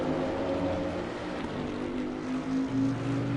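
Race car engine in Assetto Corsa Competizione at Bathurst, a steady droning roar with shifting pitch, loud and unbroken, with no voices.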